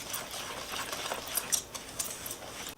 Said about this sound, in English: Then we have to mix all this together, and I'm using a whisk to do that.